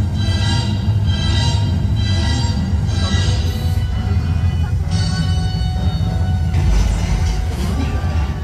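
The Universal Studios Hollywood studio tour tram rolls along outdoors, giving a steady rumbling, rattling vehicle noise with several soft hissing bursts and a thump near the end, while people talk over it.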